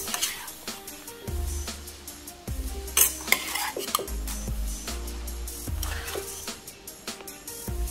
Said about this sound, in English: Now I'm going to break the rice and I'm going to stir it and mix it